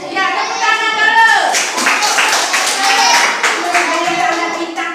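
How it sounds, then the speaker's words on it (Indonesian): Schoolchildren clap their hands together in a primary school religion class, a lively burst of clapping mixed with children's voices and chatter throughout. "Ya, tepuk tangan dulu."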